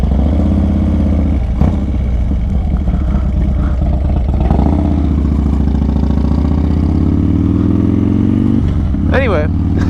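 A motorcycle coasts along the road while being ridden, a steady mid-pitched engine drone with wind and clatter, close and loud beneath the rider's talking, ending in a brief rising rev.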